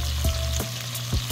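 Tomatoes sauté in a hot pan for pork sparerib sinigang, a brief steady sizzle with a low hum and a few soft stirring thumps, close by and without speech.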